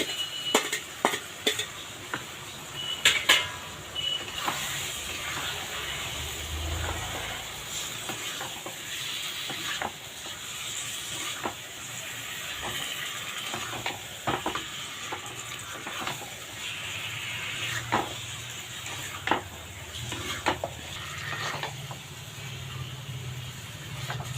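Spice-marinated meat for biryani sizzles in a pan while a utensil scrapes and clinks against it now and then, with low background noise and faint murmurs.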